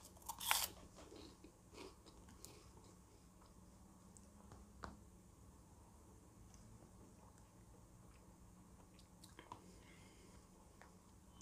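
Cheese puffs eaten with black cola, with a sharp crunchy bite near the start followed by soft chewing and faint mouth sounds at close range, quiet and sparse against a low background.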